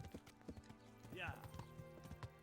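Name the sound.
horse hooves walking in video game Kingdom Come: Deliverance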